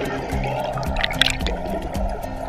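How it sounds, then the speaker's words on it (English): An Estream portable water turbine generator, its turbines unfolded, is lowered into running water, giving a soft steady trickle with scattered splashes and small clicks. "Hook and release Estream into running water."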